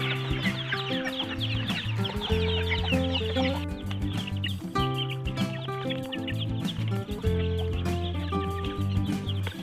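Chickens on a farm cluck busily while being fed, many close overlapping clucks and short squawks in a steady jumble throughout, with no talk.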